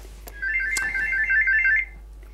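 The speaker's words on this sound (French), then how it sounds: "ça c'est le téléphone qui sonne" A telephone ringtone trills in a steady electronic warble for about a second and a half indoors, fairly loud against a quiet room, with a brief knock just before it.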